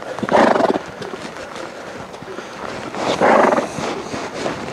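An Andalusian filly lopes under a rider, with muffled rhythmic hoofbeats and two louder bursts of heavy snorting breath, close by and without talk.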